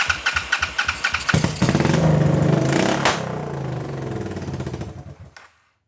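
1986 Honda VT500C motorcycle engine cranking in a rapid rhythmic chug, then catching and firing into a loud rough rumble for a few seconds before cutting out abruptly into silence.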